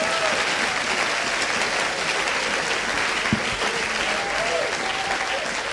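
A church congregation claps together in sustained, dense applause, loud and steady from start to finish, filling the room with a few voices and cheers mixed in.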